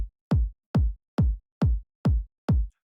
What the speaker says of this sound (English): we're going to start the drums by adding a kick on every beat.